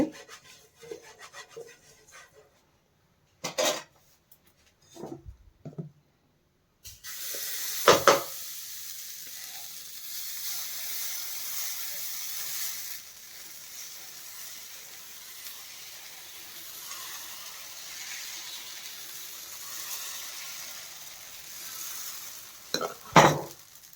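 Masala dosa cooks on a hot pan. Brief, quiet scrapes and rubs come in bursts, then a soft, steady sizzle takes over, broken now and then by sharper spatula scrapes, with no talking.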